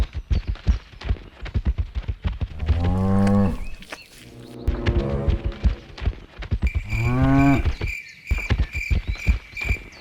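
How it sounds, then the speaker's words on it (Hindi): A cow moos three times, long and loud, with drawn-out lowing calls set against a steady rhythmic thumping beat. "कुछ समय बाद गाय वापस आ जाती है।"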